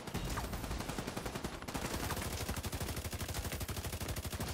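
Sustained rapid automatic gunfire in The Division 2 as a heavy gunner enemy is fought, a dense, loud rattle of shots with barely a pause, the rhythm tightening into an even, fast beat toward the end.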